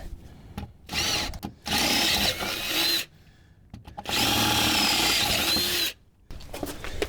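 A power drill bores a 1/4 inch hole, stepping up from a smaller pilot hole, in a 4x4's under-armor plate for nutserts: two long, loud bursts of whining drilling with shorter spurts and quiet gaps between.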